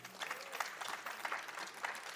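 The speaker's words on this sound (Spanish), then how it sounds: "¿Quién le puede dar un aplauso al Señor por su palabra?" A church congregation applauds, a quick, lively clatter of many hands at a steady medium distance, with no talk over it.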